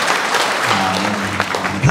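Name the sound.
applause for the wedding couple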